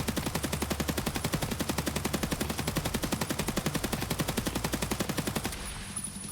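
Rapid automatic fire from an AK rifle in a video game, shot at a wall with a helmet-mounted laser, forms a loud, fast, evenly spaced burst that lasts about five seconds and then stops.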